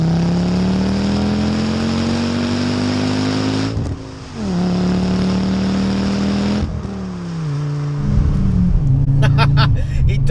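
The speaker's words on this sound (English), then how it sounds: "5-pot grunt and gurgle that you would get from your ST" A 2.5-litre five-cylinder turbo Ford Mondeo engine rumbles and gurgles steadily, pitch rising and dipping with throttle changes, ending in a burbling, popping exhaust note.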